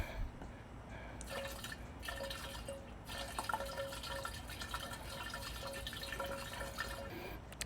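Orange oil poured into a homemade weed killer mix of 45% vinegar and dish soap, a steady liquid trickle and drip running continuously at close range with no talk.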